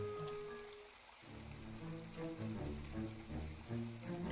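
Rain falls steadily in the video game My Time at Portia as a soft, even patter. It is faint and continuous, with low, tonal game music running beneath it and no talking.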